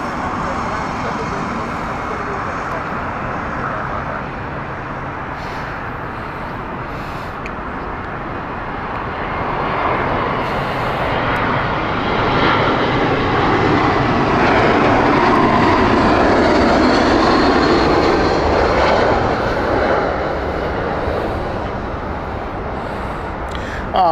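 British Airways Airbus A320 in oneworld livery at Heathrow, its jet engines a steady broad roar that swells to a peak midway and then eases slightly, with commentary over it.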